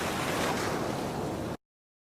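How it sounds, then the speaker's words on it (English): Ocean waves sleep sound from the Oto tinnitus app plays as a steady, broadband wash of surf, constant and fairly loud, then cuts off abruptly to silence. "Let's say you want the ocean sound."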